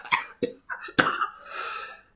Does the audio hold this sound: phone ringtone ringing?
no